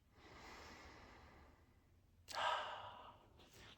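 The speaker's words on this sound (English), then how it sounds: "Let's take a breath." A slow, deep breath in a quiet room: a long soft airy inhale, then a louder, fuller rush of breath released near the microphone, trailing off into a faint final breath.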